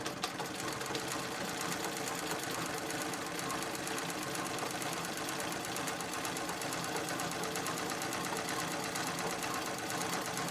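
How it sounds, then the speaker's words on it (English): A sewing machine back-quilts a feather design on a gold bag, running continuously with a fast, even, rapid stitching rattle at moderate volume, no talking. "I'm gonna back quilt all the way back, and then start again at the bottom and work up."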